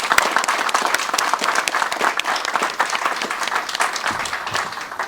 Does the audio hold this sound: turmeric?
no